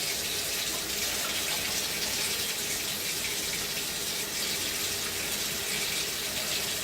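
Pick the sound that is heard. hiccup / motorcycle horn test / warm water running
warm water running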